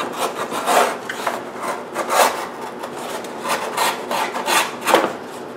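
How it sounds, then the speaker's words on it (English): A sharp utility knife slices the flap off a cardboard printer-paper box at the seam, making close, repeated rasping strokes in an uneven rhythm. "So just right here at the seam, I'm going to cut this flap off."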